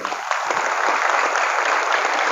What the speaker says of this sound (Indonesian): Tepuk tangan buat Al-Aqsa hari ini.